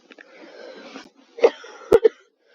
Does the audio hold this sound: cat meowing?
no